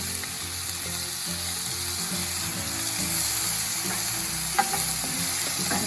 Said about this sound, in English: just stir those up and let that continue to cook down